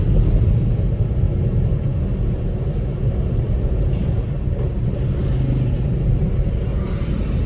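A car engine rumbles steadily while accelerating in busy road traffic, a constant low drone heard from inside the vehicle with no clear gear changes or voices.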